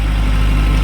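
A small tractor engine idles in winter, a loud, steady, low throbbing hum close by with no talk.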